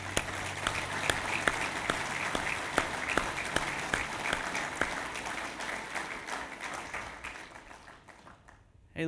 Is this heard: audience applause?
yes